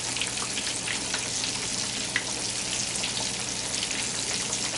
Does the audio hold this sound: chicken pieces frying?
yes